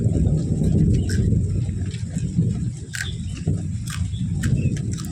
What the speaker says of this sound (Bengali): দেখছি মেঘ ডাকছে কিরকম